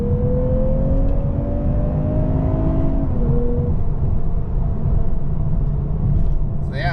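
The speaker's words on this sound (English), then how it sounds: "just to let you hear the sound of this engine, it actually sounds pretty good" A 2024 Lexus IS350 F-Sport's naturally aspirated engine drones steadily and loudly from inside the cabin while driving in Sport S Plus mode, its pitch climbing slowly, then dropping at a shift and building again under continuous road rumble.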